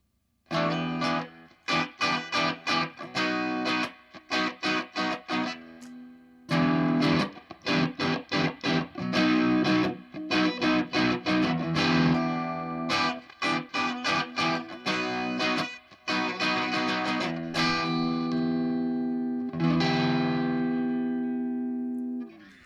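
An electric guitar with Filtertron-style humbuckers plays choppy chords and riffs, first on the bridge pickup with a brighter tone, then the neck pickup with a rounder, fuller one, with short pauses between phrases.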